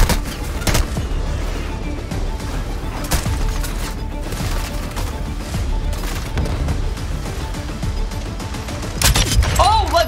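Video game gunfire from a heavy sniper loadout, with several sharp shots and booms scattered over a constant rumble of battle noise, ending in a louder burst of fire.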